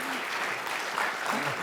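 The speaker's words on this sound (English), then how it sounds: "So can we just give Apryl a bit of a round of applause?" Short burst of steady audience clapping at a justice talk, moderately loud, with faint voices murmuring beneath it.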